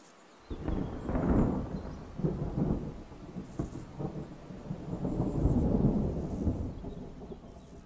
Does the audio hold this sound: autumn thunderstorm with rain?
yes